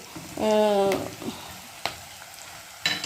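Ginger, green chilli and onion sauté in oil for a Kerala-style coconut prawn curry, a moderate frying hiss broken by a short whistling tone and a few sharp utensil knocks against the pan.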